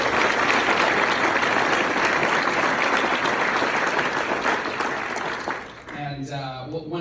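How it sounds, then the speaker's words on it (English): An audience at a university president's society gathering applauds faculty, a dense sustained clapping that fills the room for several seconds, then fades as a voice begins speaking. "Let's give them a round of applause."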